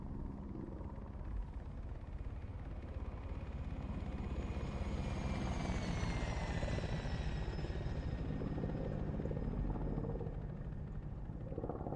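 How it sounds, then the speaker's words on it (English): A helicopter in a military shooter video game, its rotor a continuous, heavy, near thrum with a rising whine, loud and steady throughout, no voices over it. "Is aircraft to the west-southwest friendly, or is it hostile?"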